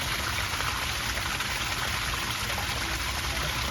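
Water from a 750 W pump pours continuously into an artificial waterfall pond during a test run, a steady, dense, close rushing and splashing with no pauses.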